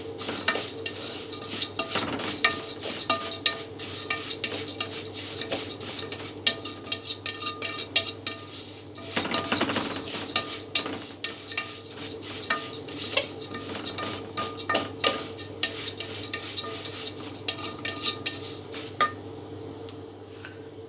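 Vermicelli frying in a pot is stirred continuously, with a utensil scraping and clinking against the metal over a steady bright sizzle for about twenty seconds, no voices present.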